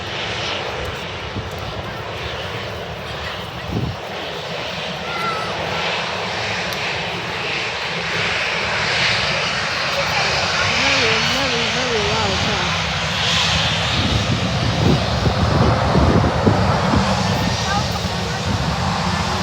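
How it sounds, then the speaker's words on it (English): A large aircraft's engines roar loudly and continuously at Manchester Airport, the rumble building over about twenty seconds, with people talking nearby over the noise. "Massive aircraft."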